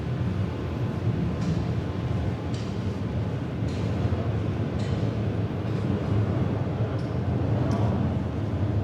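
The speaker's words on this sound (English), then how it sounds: "a train just rolled in" A Toronto subway train arrives at Bessarion Station, a loud, steady rumble of wheels and motors filling the platform, with faint periodic clicks over the drone.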